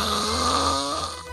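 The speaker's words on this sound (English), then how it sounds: "She keeps snoring." A person snoring loudly in a bedroom, a steady raspy drone with a low rumbling pulse holding through the whole stretch, close and continuous, no talk over it.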